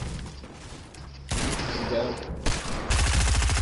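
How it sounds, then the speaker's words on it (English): Heavy bursts of hand cannon gunfire in a PS4 video game, loud and close, with a rapid rattling volley at the end and no talking. "Knocked him with that hand cannon"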